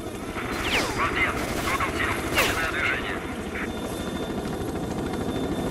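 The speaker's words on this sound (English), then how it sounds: "Did that helicopter just come out of the ground?" Helicopter rotor chop in the video game STALKER: Shadow of Chernobyl, a steady low pulsing drone with game effects layered over it and someone talking across much of it.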